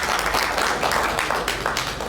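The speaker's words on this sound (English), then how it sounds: "I am allowing applause when it comes to the commissioners." Applause for county commissioners at a zoning meeting, a brief burst of many hands clapping in a room, dense at first and thinning as it fades.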